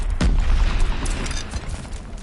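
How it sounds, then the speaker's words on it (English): A mortar shell explodes close by in the Call of Duty: Vanguard video game. One loud, deep boom lands early, followed by rumbling debris and scattered battle noise. "Allied mortar fire coming."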